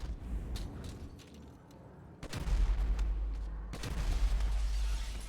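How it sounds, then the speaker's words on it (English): Gunfire in Grand Theft Auto V: scattered sharp shots and bursts crack over a rumbling low background, moderately loud, with a couple of heavier blasts standing out and no talking. "There's guys shooting at you, Mikey."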